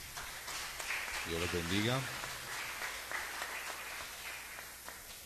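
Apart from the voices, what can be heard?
applause in church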